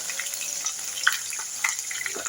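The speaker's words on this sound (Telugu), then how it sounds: "ఈ ఆనియన్ పచ్చిమిర్చి అయితే బాగా వేగాలి" Onion and green chillies frying in oil, a steady soft hiss of sizzling with a few small pops and crackles, close and alone without talk.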